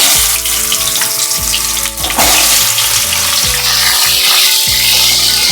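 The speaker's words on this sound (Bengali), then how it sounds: "এবারে আমি পটলগুলো ভেজে নেব" Pointed gourd (potol) fries in hot oil with a loud, dense crackling sizzle, close up, punctuated by clattering stirs and bumps against the pan throughout.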